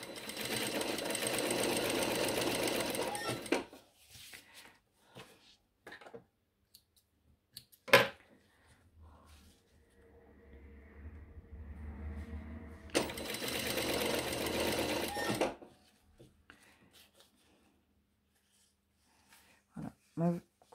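A sewing machine stitches a shirt collar in two sustained close bursts of fast needle chatter, separated by quiet handling clicks and soft fabric rustle, with a voice speaking briefly in between.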